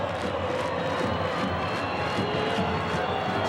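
Botafogo supporters fill a football stadium with a dense, steady roar of crowd noise, distant and continuous with no single voice standing out, during a 2010 Brasileirão match against Avaí.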